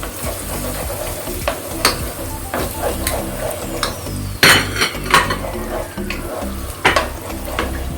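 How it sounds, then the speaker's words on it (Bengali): Eggs being broken up and fried in a pan beside already-fried mushrooms, giving a steady sizzle with scraping and stirring clinks of a utensil against the pan and a few sharper knocks. "মাশরুমগুলো ভাজা হয়ে গেলে এখন আমি এগুলোকে এক পাশ করে ডিমগুলো আমি গুঁড়ো গুঁড়ো করে ভেজে নেব।"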